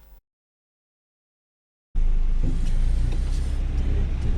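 A waiting car's engine idles close by, a steady low rumble that starts abruptly after a short silence and keeps running to the end.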